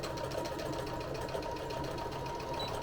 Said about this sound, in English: we're gonna sew down the other side of the leg.